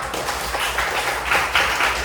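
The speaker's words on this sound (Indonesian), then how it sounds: "tepuk tangan dulu untuk kita semua" Children in an elementary classroom applaud together, producing a dense, steady wash of clapping that lasts the whole short moment at moderate loudness.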